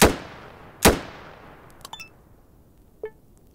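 Gunfire in the video game Atom RPG: two sharp shots close together at the start, followed by a few fainter clicks and metallic impact pings trailing off into quiet.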